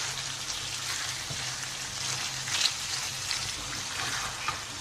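Bottle gourd sautéing and being stirred in a pan gives a steady, soft sizzle throughout, like light rain, with a few faint scrapes rising above it.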